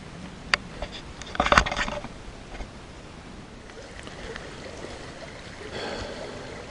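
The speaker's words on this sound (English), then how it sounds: "This is the same creek that goes by my camp." A woodland creek flows past on a rainy summer day, a steady near wash of running water with a few sharper splashes and knocks early on, no one speaking over it.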